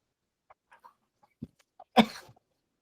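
A single sharp sneeze bursts out during a virtual press conference, after a few faint clicks and small noises in an otherwise quiet room.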